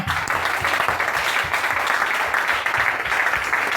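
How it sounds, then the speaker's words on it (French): A Sunday church congregation breaks into sustained, loud applause, a thick wash of overlapping claps that holds steady throughout with no voices standing out. "Est-ce que Jésus-Christ peut recevoir l'acclamation ce matin?"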